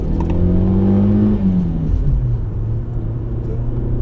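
A 2003 Fiat Stilo 1.6 engine revs up with a rising, then falling drone, followed by a steady low rumble of the motor running close by.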